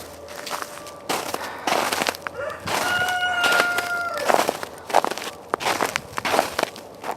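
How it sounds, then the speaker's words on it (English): Chickens waiting to be fed on a winter homestead cluck and crow close by, with a rooster's crow standing out and footsteps crunching among them. "These chickens want to be fed first"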